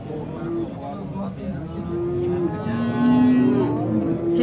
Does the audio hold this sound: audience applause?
no